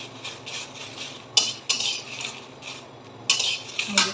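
Dried red chillies frying in a pan for pickle spice, close metal spatula scrapes and clinks against the pan in bursts over a faint sizzle.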